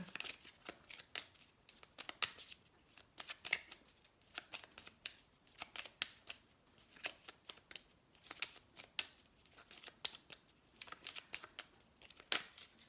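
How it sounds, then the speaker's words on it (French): Tarot cards being shuffled and drawn, a steady run of quick, papery riffles and flicks with soft slaps as cards land, close and fairly quiet throughout with no talking. "On va sortir d'autres cartes."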